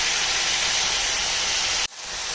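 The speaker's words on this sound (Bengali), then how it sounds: "আমি এবারে ফ্লেমটা কমিয়ে দিয়ে আস্তে আস্তে ভাজাটা হতে দেবো" Diced potatoes and eggplant sizzling in hot oil in a pan, a loud steady hiss that cuts out abruptly near the end and then returns slightly softer.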